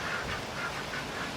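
Ducks quack in a steady, repeated rhythm on a farm during a stormy spell, heard alone with no talk over them.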